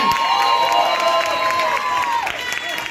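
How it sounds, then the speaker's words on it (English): An audience at a Teachers' Day celebration honoring professors applauds and cheers, a loud crowd roar with clapping and raised voices, shouts and whistles rising over the din. "Can we have a huge round of applause for Shiva Professor?"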